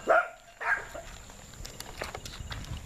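Dogs bark nearby on a rural property, two loud barks at the start followed by fainter yips and rustling in the background.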